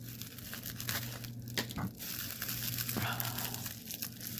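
A small tool being cut and pulled out of its tightly sealed plastic package, with close crinkling and tearing of the wrapping, faint snips, and some quiet background hum.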